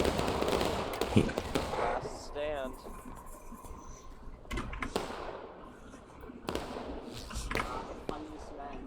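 Musket volleys crack and pop in a Civil War video game battle at Antietam, scattered bursts of gunfire over several seconds mixed with battle noise while a voice talks throughout.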